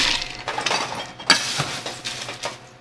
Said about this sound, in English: we're going to pour this right here into our hurricane glass